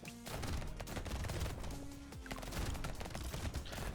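Weapons fire in the video game Brotato as a continuous barrage of rapid shots layered over game effects, steady and fairly loud throughout.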